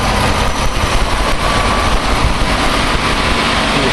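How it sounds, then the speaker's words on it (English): A 1986 Mercedes-Benz 420 SEL engine idles loud and steady up close, its low rumble blended with a constant whooshing roar of both cooling fans running with the AC on, with no voices. "The engine sounds good. Purrs like a kitten."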